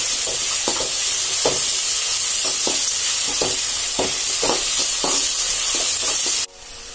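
Onions, curry leaves, green chillies and dried red chillies sautéing in a pan for coconut rice. A loud, hissing sizzle with a rhythmic series of stirring scrapes cuts off abruptly near the end.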